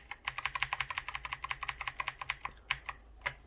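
Keys clack on an NKEY R3 RGB LED backlit mechanical gaming keyboard in a fast, even run of crisp presses, close and clear, slowing to a few separate taps at the end.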